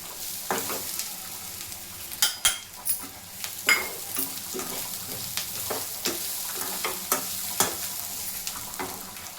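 Cashews and dal frying in a pan, a constant close sizzle overlaid with sharp, irregular scrapes and taps of a spatula, with no voices.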